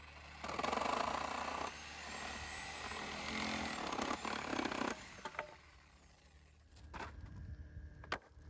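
Milwaukee power saw cutting apart wooden pallets, a loud sustained buzzing cut for about four seconds, then quieter scattered knocks and a few short bursts as the blade stops and restarts.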